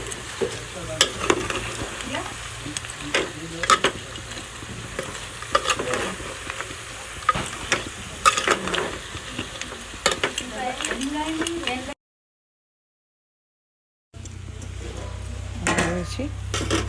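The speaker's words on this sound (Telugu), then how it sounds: "ఉప్పు, పసుపు, వేసి మంచిగా కలపాలి." Goat head curry being stirred with salt and turmeric in a village kitchen, with repeated scraping and stirring strokes over a steady sizzle, then a brief dropout before the stirring resumes.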